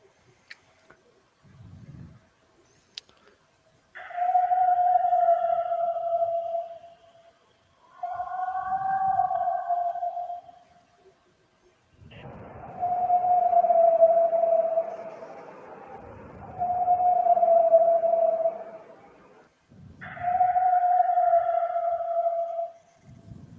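A purported Bigfoot vocalization recording played back: several long, tonal, wavering calls separated by pauses, with low thumps between them against a quiet background.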